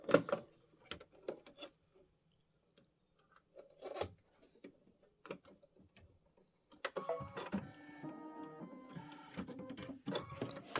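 A home embroidery machine runs a placement stitch to mark batting position for a quilt block, its needle pecking in quick mechanical bursts, with quieter pauses early on and a busier, denser stretch of stitching later.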